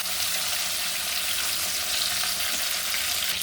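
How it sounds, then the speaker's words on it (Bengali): Fish fry in hot oil in a wok, giving a steady, dense, close sizzling hiss that holds without a break throughout. "দেখুন আমি মাছগুলো ভেজে নেব।"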